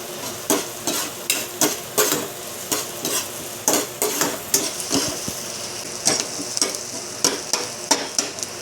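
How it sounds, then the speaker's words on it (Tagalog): Ingredients for yellowfin tuna sisig sautéing in a pan, a steady sizzle broken by regular rhythmic scrapes and clinks of a utensil stirring, close and fairly loud, no voices. "tayo na magsimula mag-gisa ng sangkap sa ating gagawing yellowfin tuna sisig special"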